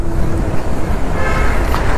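Heavy city road traffic, a loud continuous rumble of engines and wind from close by, with a faint horn toot near the end.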